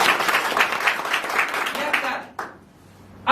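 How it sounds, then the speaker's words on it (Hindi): Audience applause at a marketing business event, dense rapid clapping from a crowd that holds steady for over two seconds, then stops abruptly, leaving quiet room tone. "मैं चाहूंगा इन तीनों के 3 महान डायरेक्ट एक जोरदार ताली बजा।"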